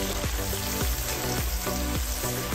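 A quail dish bubbling in a pan in a Kapampangan kitchen, with a steady close sizzle and a soft scrape of stirring every half second or so, continuous with no voices.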